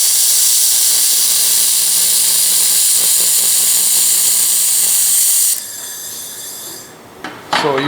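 Laser welding run with flux core wire on roughly 3 mm metal gives a loud, steady hiss lasting about five and a half seconds. It then cuts off into quieter workshop noise and a short clatter.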